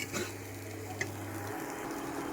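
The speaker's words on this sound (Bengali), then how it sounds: "আর আমি ডাল রান্না করছি" Vegetable dal cooks in a pan with a soft, steady sizzle and faint stirring, a quiet kitchen sound with one small tick partway through.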